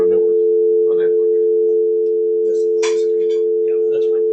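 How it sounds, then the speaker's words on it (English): A steady telephone dial tone hums loudly from a Polycom conference phone in a meeting room, holding unbroken for several seconds while faint voices and small clicks sit underneath. "Let's dial in with the Polycom."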